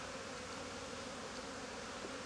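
Honeybees drone steadily around their hive, a soft, even, continuous buzz heard close by with no voices.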